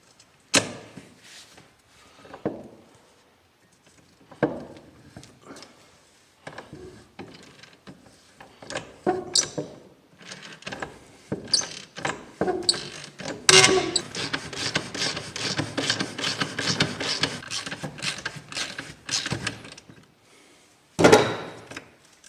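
A ratchet works a rear brake bolt loose on a 2004 Saab 9-3 1.8t, with scattered metallic clicks and knocks at first, then a long run of rapid, loud, close ratcheting clicks before one last clunk.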